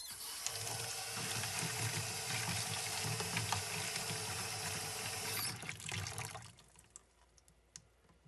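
Hot water runs from a tap in a lapidary workshop, a steady broadband gush with a low rumble that lasts about six seconds, then cuts off, leaving faint clicks and handling sounds.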